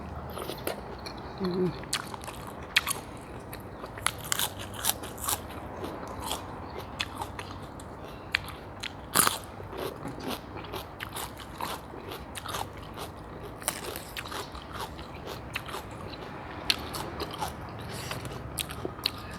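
Someone eats boiled pork head with crisp lettuce and a sour-sweet seafood dipping sauce, making close, steady crunching and chewing that repeats in quick irregular bites with barely any talking.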